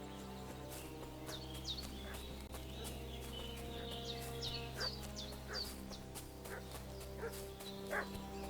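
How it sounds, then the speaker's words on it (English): A dog in Kingdom Come Deliverance barks repeatedly in short, irregular bursts at middle distance over a steady game music bed, with faint bird calls mixed in. "What's that dog making such a fuss about?"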